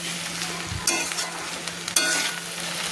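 Spicy egg pasta being stirred in a pan over a low gas flame, a continuous frying sizzle up close broken by two louder scraping strokes of the spoon, with no voices.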